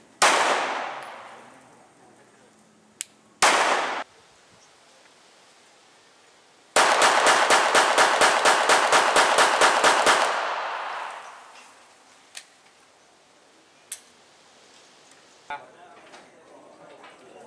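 Police cadets firing pistols at close range, a 1-metre shooting drill: loud sharp gunshots, first a few single reports, then a rapid string of about twenty shots over three seconds, followed by scattered distant pops and clangs.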